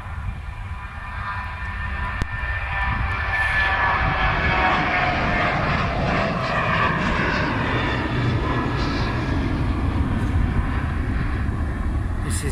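Aircraft engines roar loudly and steadily at the runway of London Stansted airport, a sustained close jet or propeller noise filling the whole stretch.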